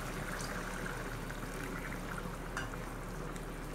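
Water poured into a pan of Amritsari chole curry, a steady soft gush with a faint bubbling simmer, continuous and close throughout.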